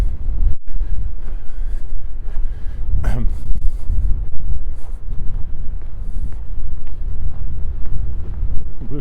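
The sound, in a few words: wind blowing across a lake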